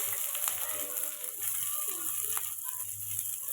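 Whole cinnamon, cardamom and cloves fry in hot oil, giving a soft, steady sizzle that runs throughout under a faint low hum.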